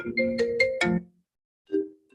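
A cell phone ringtone plays a short bright melodic phrase of several tones, pauses, then starts again, clear against near silence.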